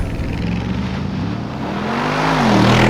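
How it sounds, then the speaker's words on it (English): A 2020 Mercedes-AMG G63 with a hand-built twin-turbo 4-liter V8 accelerating hard from a standstill without launch control, its loud, close engine roar rising steadily in pitch as it gains speed, with no voices. "'20 Mercedes-AMG G63 Without launch control"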